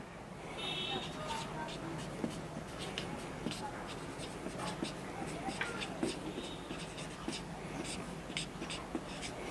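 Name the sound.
writing the date on paper or board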